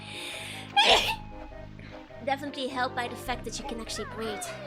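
A single sharp sneeze bursts out close to the microphone, then a person speaks over soft background game music.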